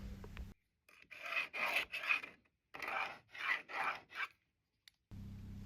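Pencil scraping across a wall in several short strokes, rasping near and clear in bursts with quiet gaps between them, while marking a level line for radiator brackets.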